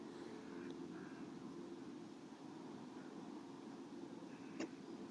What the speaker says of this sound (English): Sounds like another plane coming in,